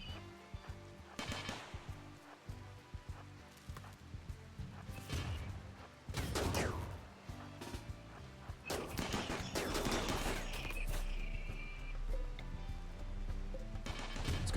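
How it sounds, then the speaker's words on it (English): Mini turrets fire on Scyther mechanoids in the video game RimWorld, with dense bursts of rapid gunfire and crashing impacts layered over a steady game background for the whole stretch. "We'll be shooting with the mini turrets."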